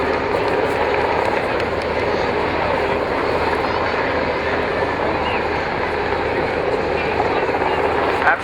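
A large rescue helicopter, a Sea King type, hovers at a seaside air show, its steady loud rotor and engine roar continuing unbroken with talk faintly underneath.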